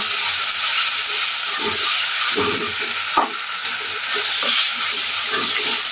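Spice paste fries in a pan with a loud, continuous sizzle and hiss, while intermittent scraping stir strokes come through close up with no voices.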